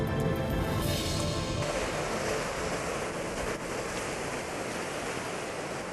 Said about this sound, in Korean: 거친 파도는 빙하가 만든 협곡 사이로 쉴 새 없이 파고드는데요